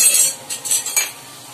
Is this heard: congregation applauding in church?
no